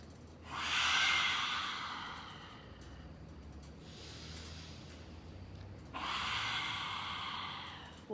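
Lion's breath in a vinyasa yoga class: two long, forceful open-mouthed exhales, each a loud breathy rush lasting a couple of seconds, with a quieter inhale between them and no talking.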